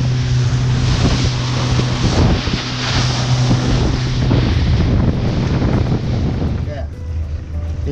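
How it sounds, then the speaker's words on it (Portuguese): A 115 outboard motor drives a fishing boat at speed, a loud continuous roar mixed with strong wind buffeting and rushing water, with no talk over it. "Olha, é motor 115 rodando lá atrás"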